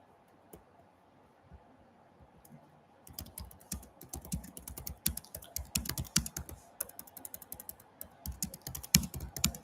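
Keys clatter on a computer keyboard in quick irregular bursts, close and fairly quiet, getting busier after a near-silent start.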